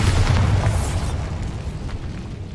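A Bombarda spell explosion in the video game Hogwarts Legacy, a loud, deep boom with heavy low rumble that rolls and slowly decays over a couple of seconds.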